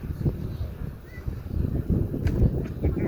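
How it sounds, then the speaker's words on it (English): Gusty wind buffets the microphone outdoors with low rumbling bursts, steady and close throughout. "Just a bit windy, but it's not bad."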